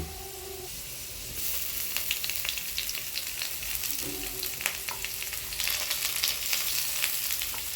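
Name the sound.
onions frying in a pan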